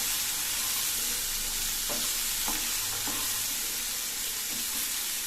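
Turkey berries and ginger garlic paste sauté in a pan, giving a steady close sizzle throughout, with a few soft scraping stirs partway through.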